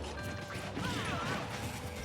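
Smash attacks land in Super Smash Bros. for Wii U doubles, with a sharp crash of hits over busy game effects, fairly quiet in the mix.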